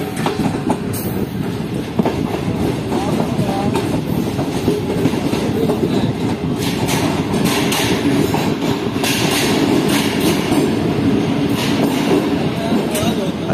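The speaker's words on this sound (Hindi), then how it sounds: "ट्रेन हमारी स्किप कर रही है टंडो आदम जंक्शन रेलवे स्टेशन को" A train rolls steadily through Tando Adam Junction station, with loud continuous rumbling and rhythmic clickety-clack of wheels over rail joints throughout, heard from on board.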